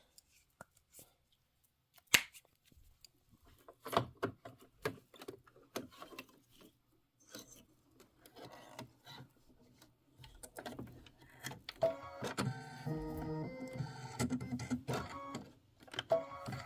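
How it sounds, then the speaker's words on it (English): Embroidery machine stitching basting thread through linen for a Christmas quilt block: rapid mechanical ticking and clattering bursts that start sparse and become a dense, steady whirring run, close and alone without talk. "And this is 3 minutes of stitching."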